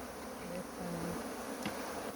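Honey bees buzzing around a beehive in Guyana, a close, continuous droning hum with wavering pitch as individual bees pass near.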